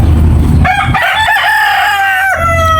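A fighting rooster (battle stag) crows once, a loud drawn-out call close by, with low rumbling background noise before it.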